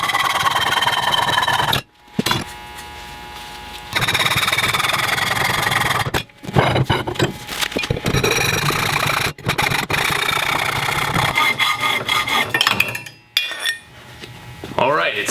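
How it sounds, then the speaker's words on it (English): Metal conduit stakes being sawn into 16-inch pieces, loud close rasping strokes of cutting in bursts separated by short pauses, with clanking of metal pieces between cuts. "Now I'm going to cut up my conduit stakes into 16-inch pieces."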